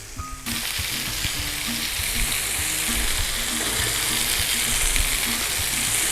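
Thick pork chops fry slowly in a pan, making a loud, constant close-up sizzle, with irregular mechanical ticking and clicking running underneath throughout.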